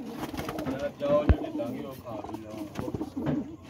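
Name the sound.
pigeons cooing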